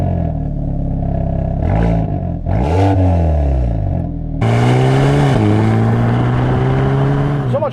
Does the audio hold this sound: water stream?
no